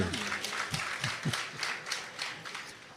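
An audience at an Ethiopian menzuma hadra gathering claps in a steady rhythmic beat, with a murmur of voices underneath.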